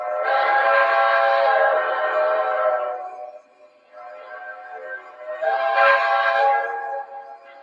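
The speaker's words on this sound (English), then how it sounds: "this is the Quillable whistle." A model train engine sounds its quillable whistle while pushing a long string of cars: two loud, sustained harmonic whistle blasts separated by a brief softer tone, with no talking.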